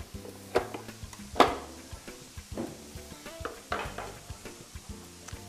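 A utensil stirs and scrapes through ingredients in a bowl while flour is worked in after the liquids are combined. Irregular close scrapes come with sharp clinks against the bowl at a moderate level.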